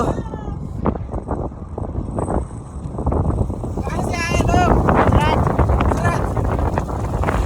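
Wind buffets the microphone in rough gusts, growing stronger toward the end, while a person talks over it, on a road trip from Gujarat to Nepal.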